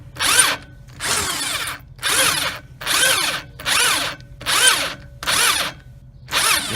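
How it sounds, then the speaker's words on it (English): A power drill fitted with a step bit bores into a foot peg mount during a Time-Cert thread repair, in eight loud, close bursts of about half a second each, separated by short pauses. "the step bit will actually stop when it is all the way in"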